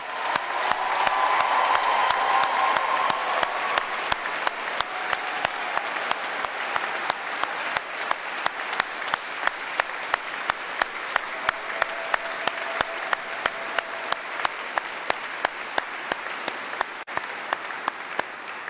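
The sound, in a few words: audience applause at graduation ceremony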